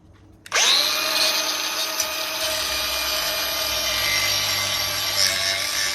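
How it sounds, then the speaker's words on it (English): A power drill starts up abruptly and spins at a steady high whine while boring a hole in metal during work on a tracked jeep, running loud and close for several seconds with slight variations in pitch. "I can drill another hole, pop it in there."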